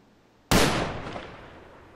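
A single gunshot in the military video game Arma III, one sharp close crack after a quiet moment, followed by a long fading echo across open terrain.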